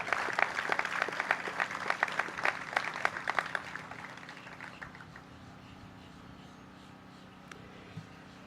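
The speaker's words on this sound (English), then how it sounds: "Let's give another round of applause for them." Scattered outdoor applause for the Charleston Symphony Orchestra at a waterfront park dedication, a few seconds of moderate clapping that thins out and fades to quiet ambience.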